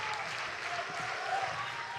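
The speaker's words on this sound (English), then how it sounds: "Crowd on their feet trying to help out Luke Kelly on the mound." A baseball crowd at a playoff finals game applauding on their feet, a dense, sustained wash of clapping and cheering from a distance, with a commentator talking over it.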